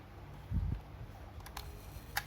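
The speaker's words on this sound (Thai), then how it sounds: "จากนั้นขึ้นชัตเตอร์" A Canon Canonet film camera's shutter is cocked, giving a brief mechanical rasp followed by a few faint, sharp clicks in a quiet room.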